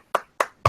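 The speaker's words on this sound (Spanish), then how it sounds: "te voy a aplaudir, realmente es excelente" Three sharp, separate hand claps, evenly spaced and close, with no voices, given as applause for a speaker at a social and environmental crisis discussion held at Centro Cultural Discépolo.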